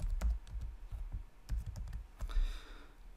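Typing on a computer keyboard while coding a web page: quick, close key clicks come in short irregular bursts, faint and alone, with no talk over them.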